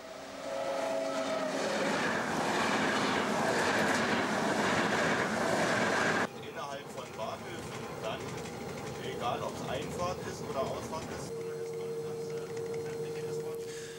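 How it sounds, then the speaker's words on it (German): An ICE high-speed train running on the electrified Berlin Stadtbahn toward Zoologischer Garten station, a steady loud rolling rumble and rail hiss that shifts partway through to a quieter, rattling passage with faint tonal whine. "Der ICE fährt zum Bahnhof Berlin Zoologischer Garten."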